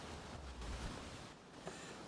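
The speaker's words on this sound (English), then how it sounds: "It's a bit windy today" Soft, low rushing noise fills the clip, gusting faintly like wind buffeting a microphone outdoors, quiet and continuous.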